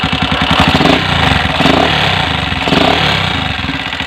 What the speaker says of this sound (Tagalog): grabe ingay parang may lato-lato sa loob ng makina